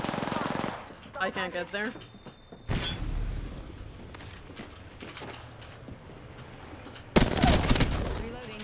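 Video game gunfire, mostly distant scattered shots behind a voice, then a loud close burst near the end.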